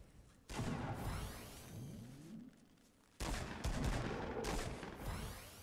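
Gunfire in a video game: sharp broadband shots and bursts arrive in two loud clusters separated by a quieter gap, with a whooshing, rumbling battlefield texture between them and no talk over it.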